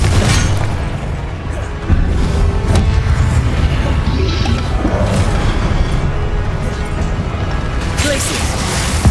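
Confringo blast spells in the video game Hogwarts Legacy: loud, continuous rumbling booms and crashing impacts pile up one after another, with voices shouting over the combat.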